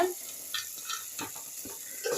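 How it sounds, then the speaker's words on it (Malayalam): Scraping and stirring of softened tomatoes in a cooking pan, with soft rhythmic strokes over a faint sizzle, close by and fairly quiet. "അതൊന്ന് ഉമ്മച്ചി ഇളക്കി കൊടുക്കുകയാണ്"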